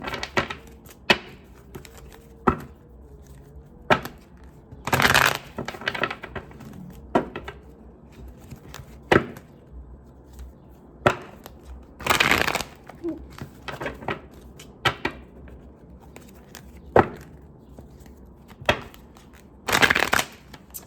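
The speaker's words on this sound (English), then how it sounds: "I hate when I shuffle the cards" Playing cards being shuffled in several quick riffling bursts, with scattered taps and card handling between them, fairly close.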